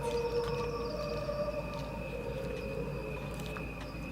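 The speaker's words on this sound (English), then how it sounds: "What you are hearing are the crickets only." Slowed-down cricket chirping forms a droning chorus of sustained, layered tones that sounds eerie and almost choral, steady throughout with soft pulsing.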